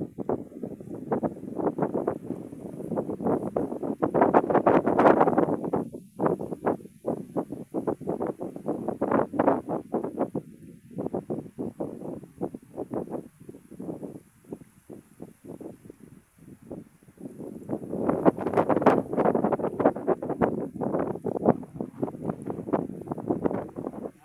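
Steady wind at sea buffets the microphone in gusty bursts, with a low rumble like a boat moving over open water, loudest near the start and end.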